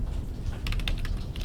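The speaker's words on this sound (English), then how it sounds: "So I can start typing now" Fingers type on a computer keyboard, a quick run of several crisp key clicks over a steady low background hum, close and moderately loud with no talk.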